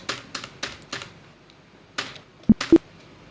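Computer keyboard keys are tapped while entering a ledger in Tally ERP 9 accounting software: a run of light keystrokes, a pause, then two sharper, louder presses close together near the end.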